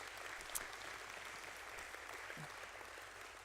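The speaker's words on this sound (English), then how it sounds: "Give them one more round of applause for what they've done." An audience applauds at a leadership event, a steady wash of clapping throughout, fairly faint and even in level.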